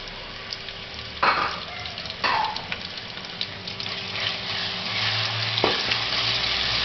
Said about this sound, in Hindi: अब घी हमारा अच्छे से गर्म हो चुका है और इसमें अदरक लहसुन का पेस्ट शामिल कर देते हैं।